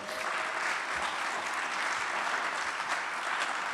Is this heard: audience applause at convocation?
yes